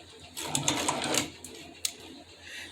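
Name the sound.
leather sewing machine running and getting stuck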